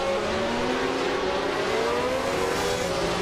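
A 1967 McLaren M5A race car engine drones steadily in a racing video game, its rising and falling harmonic whine holding loud and close for the whole stretch with no talk.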